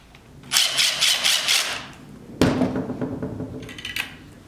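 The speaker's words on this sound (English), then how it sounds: "I'm going to tighten it down with my power tool" A power tool drives in the cord wrap screw on a Kirby vacuum cleaner during assembly, with two short bursts of close, loud whirring and mechanical clatter separated by a brief pause.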